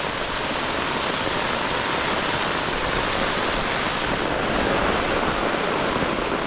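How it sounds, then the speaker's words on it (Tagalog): Heavy rain pours down steadily during a storm on a farm, a dense, loud, unbroken hiss of water with no pauses and no voices. "Ulan na naman, malakas na naman yung ulan."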